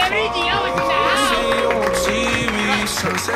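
A studio audience on a Spanish New Year's Eve comedy show gives an ovation, cheering, whooping and clapping loudly throughout, with voices mixed into the crowd noise.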